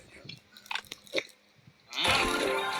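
Several soft bites into a Dubai chewy cookie, a marshmallow cookie filled with kataifi and pistachio, come through close up with faint crunching. A louder, broad rustling noise follows near the end.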